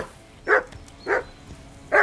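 A dog in the medieval role-playing game Kingdom Come: Deliverance II barks three times at an even pace, each bark close, clear and separate, with quiet gaps between.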